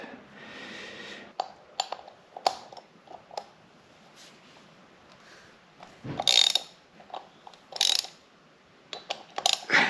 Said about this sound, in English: So we'll get that off with the T40 Torx.